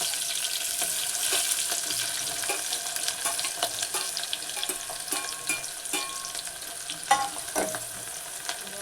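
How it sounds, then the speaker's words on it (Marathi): Onion for chole sautés in a pan with whole spices and green chilies, giving a continuous close sizzling hiss marked by repeated stirring scrapes, no voices. "चांगला परतून घ्यायचा आहे कांदा"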